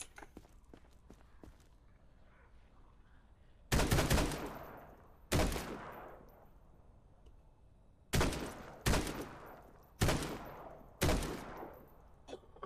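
Pistol shots in the survival game Quarantine Zone, six sharp loud cracks, one spaced well apart and then a quicker irregular cluster, each decaying briefly over a quiet background with faint soft footsteps.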